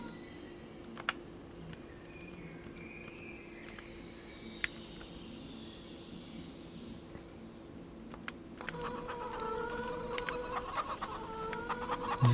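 Chickens cluck softly in Farm Sim 25, with a steady farm-machinery hum underneath and a brief burst of clucking near the end.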